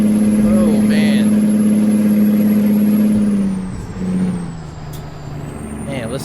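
Heavy truck engine in American Truck Simulator strains and winds up while climbing a hill, a loud steady drone that eases and drops in pitch midway, with a brief air-brake hiss.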